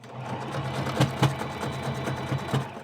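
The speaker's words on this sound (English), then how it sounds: "cut your elastic, stretch it, and use a zigzag stitch" A sewing machine runs a zigzag stitch to attach stretched elastic onto a shirt, a continuous close mechanical whirring hum with a few louder clicks and thumps.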